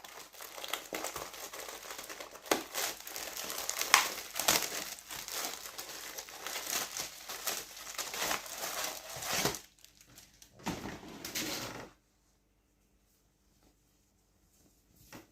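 Plastic packaging around a Simpsons XL T-shirt crinkles and crackles loudly and continuously at close range for about twelve seconds as it is unwrapped, then stops abruptly into near silence.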